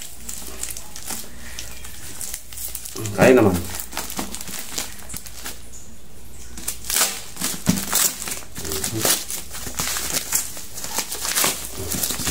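Package wrapping is torn open by hand without scissors, producing crinkling and ripping bursts, with one loud tear early on, while someone talks throughout.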